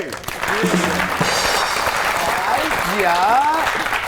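A studio audience on a comedy talk show applauds to welcome a guest, a loud steady wash of clapping with music and a voice faintly mixed in.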